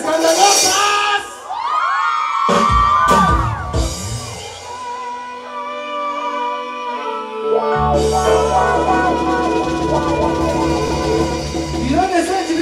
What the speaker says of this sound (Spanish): el grito fuerte de todas las viejas escandalosas.